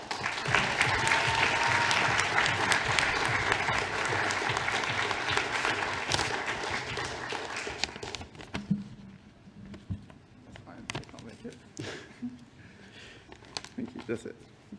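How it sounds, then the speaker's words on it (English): Sustained applause from an audience at a 2022 volunteering awards ceremony, greeting the winning hospital charity; dense clapping for about eight seconds, then thinning into scattered claps and a few voices. "So join me in applauding this year's winner, the Royal Hospital for Neurodisability"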